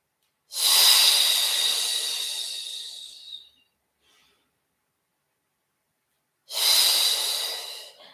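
Two long, slow breaths, one drawn out for about three seconds, a pause of silence, then another breath begins; close and airy.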